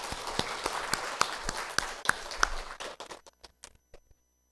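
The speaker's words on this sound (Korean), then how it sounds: "하나님 앞에 크게 영광의 박수 돌리시겠습니다" A church congregation at a Sunday service gives a round of applause to God: sparse, sharp, close claps in a loose rhythm that thin out and stop near the end, leaving silence.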